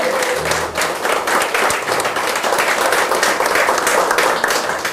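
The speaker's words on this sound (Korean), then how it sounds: "박수 한번 크게 좀 부탁드리겠습니다." Sustained, loud applause from the audience at a party members' rally in Daejeon, many hands clapping continuously and evenly throughout, with a brief tone near the start and a faint voice underneath.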